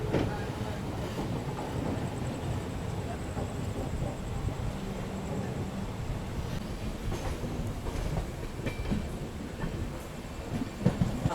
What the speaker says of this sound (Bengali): আমার ট্রেন ছেড়ে বেরিয়ে গেল Khurda road junction railway station থেকে